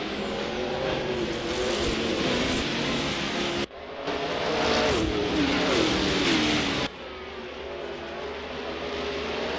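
Racing cars in a CanAm race at the Highlands long layout in a driving video game, engines roaring loudly and continuously as the field launches from the start, with a brief dip midway before the dense engine noise resumes.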